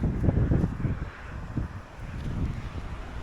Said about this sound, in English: This headwind is just crazy, it's crazy.